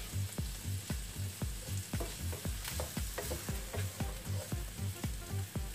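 Lardons sizzling steadily in a frying pan, with a regular rhythmic stirring or scraping pulse about twice a second over a constant crackling hiss, close and with no talking.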